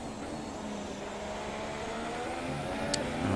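A Ferrari Formula 1 car engine in F1 2017 drones loudly and steadily at high revs on the Russia circuit, with a short sharp click near the end.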